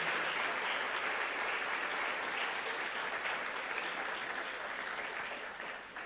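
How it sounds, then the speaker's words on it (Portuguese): A church congregation gathered for a seminar applauds warmly, many hands clapping in a steady, even wash that softens and fades near the end. "Vamos receber a Irene aqui com um aplauso, né?"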